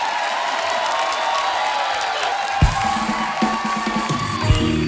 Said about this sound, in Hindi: ये ताली मेरी बात पे हो रही है या उसके काम पे हो रही है?